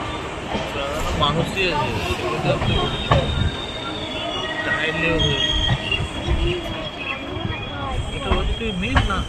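The Jammu Tawi Express rumbles along the tracks with a steady clatter and occasional wheel squeal. Voices talk continuously over the rolling noise.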